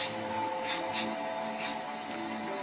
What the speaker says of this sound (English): I'll just show you one of the doors, I'm not going to show spraying both of them